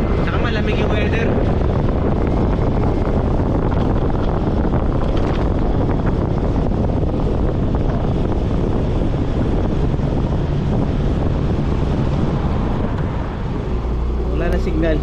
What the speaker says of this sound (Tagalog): may bagyo, lakas ng hangin.